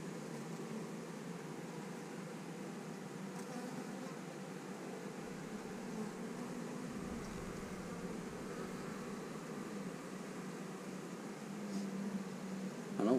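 Honey bees buzz steadily around an open hive during an inspection, a soft continuous drone with faint broadband hiss throughout.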